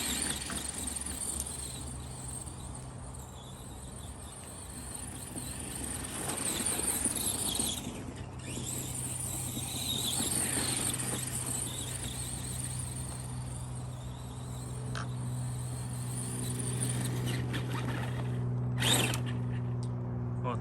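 An Arrma Granite Voltage RC truck drives with a faint, steady electric motor whine and occasional squeals, fairly quiet and distant, with no one speaking.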